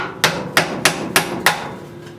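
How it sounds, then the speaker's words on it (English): Five sharp metal-on-metal hammer strikes on an antique wood-fired cook stove, spaced roughly a third of a second apart, loud and close with brief ringing decay and no voices. "you just gotta act like a carpenter and get a bigger hammer"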